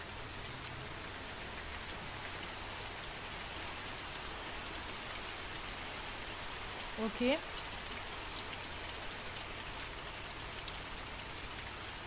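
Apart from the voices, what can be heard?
rain falling indoors in the video game The Mortuary Assistant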